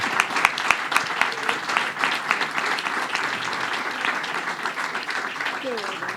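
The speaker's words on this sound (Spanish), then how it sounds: "Un fuerte aplauso." Audience applause at a technical conference, steady and full throughout, with a few sharp individual claps standing out at the start and faint voices underneath.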